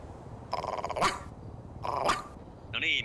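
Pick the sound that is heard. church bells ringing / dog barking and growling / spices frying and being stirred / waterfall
dog barking and growling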